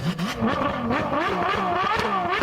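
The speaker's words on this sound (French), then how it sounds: "F12 Tour de France. C'est la grosse GT de Ferrari avec un V12 Atmo incroyable." A Ferrari F12 Tour de France with a naturally aspirated V12 revs hard, rising and falling in repeated sweeps, loud and close with a shrill, harmonic-rich howl and no talk.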